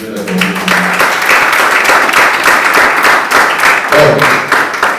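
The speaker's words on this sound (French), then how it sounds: "Si vous êtes d'accord sur le principe, je vais vous entendre applaudir." An audience applauds at a coached master-of-ceremonies event, a dense, steady wash of clapping that fills the room for the full stretch, with a voice briefly audible near the start and again toward the end.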